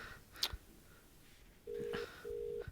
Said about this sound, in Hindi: रिंग जा रहा है ना?